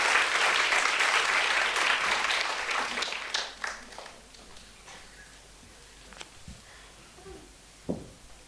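Indoor audience at an evening humanities discussion applauds to welcome a speaker, a dense, close burst of clapping that gradually thins out into a few scattered claps and small noises.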